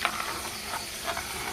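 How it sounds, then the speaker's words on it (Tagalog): Squash (kalabasa) stirred into a pan with tocino and egg, hot oil hissing and sizzling steadily up close, with a few soft scrapes of stirring over the frying. "lagay ko na yung ating kalabasa"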